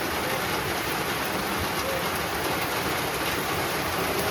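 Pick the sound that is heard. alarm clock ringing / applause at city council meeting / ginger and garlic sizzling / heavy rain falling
heavy rain falling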